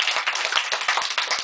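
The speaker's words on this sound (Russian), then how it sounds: "Тоже, тоже удостоился аплодисмента." Audience at a live rock concert applauds a band's new drummer, a dense burst of many hands clapping close and steady throughout, with no voices over it.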